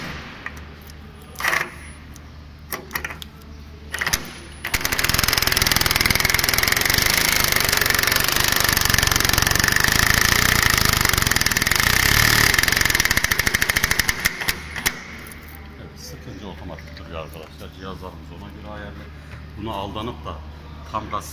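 A Vespa scooter engine revs loudly for about ten seconds with a harsh, rattling buzz, framed by brief knocks and clatter before and after, with someone talking nearby.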